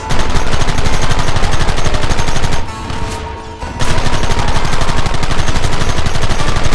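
Dense, continuous volleys of rapid gunfire in Red Dead Redemption roar at high volume, dipping into a brief lull near the middle before the barrage resumes unbroken.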